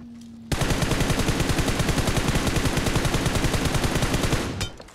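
Sustained burst of rapid automatic gunfire in a first-person shooter video game, loud and continuous for several seconds before cutting off abruptly.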